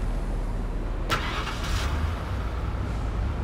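A police car engine in the Police Simulator patrol officer game cranks briefly and catches, then settles into a steady low idle under a constant rumble.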